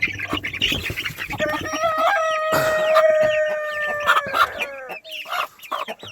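Crowded backyard chicken coop packed with growing young birds, a dense mix of close clucking, squawks and a long drawn-out crowing call, loud and continuous with overlapping voices from several birds.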